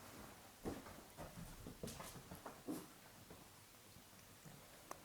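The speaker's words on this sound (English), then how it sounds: "Sorry about the barking in the background." A dog barks intermittently in the background of an indoor reading, short muffled barks at irregular intervals, fairly faint and distant.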